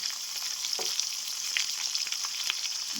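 Goat liver sizzles steadily in a pan with salt, turmeric, chili powder, coriander powder and ginger paste, a continuous hiss of frying with a few soft stirring scrapes and no voices.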